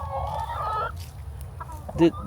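Chickens cluck close by in short, throaty bursts, one louder squawk near the end, with faint background noise.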